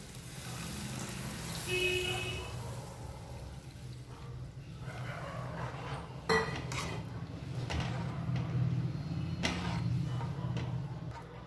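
Coconut milk is poured into a Kerala tomato curry and mixed, with a steady low simmer and pouring wash under repeated ticking taps and scrapes of a spoon against the pot, close and moderate in level.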